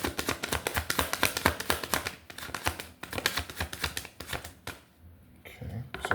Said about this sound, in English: we'll give another shuffle and see if something else comes out